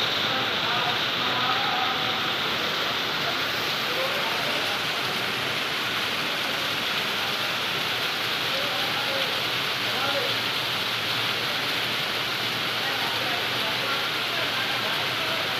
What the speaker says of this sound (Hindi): सुबह से बारिश चल रही है अभी